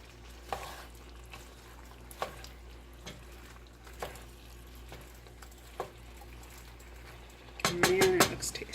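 Kielbasa skillet dish being stirred after salt goes in, with soft periodic spoon scrapes against the pan every second or so and a louder burst of clattering near the end over faint sizzling.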